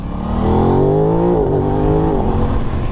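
An Aprilia RS 660 sport motorcycle engine revs up as it pulls away, its pitch climbing steadily through a tall first gear, close and loud with a constant rumbling drone.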